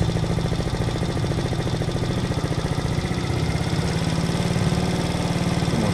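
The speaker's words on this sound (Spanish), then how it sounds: "si se dan cuenta la motocicleta se aceleró un poco más" A small 70cc Cerro C70 motorcycle engine runs steadily with a buzzing, rattling drone during carburetor adjustment, loud and close, holding a constant pitch throughout.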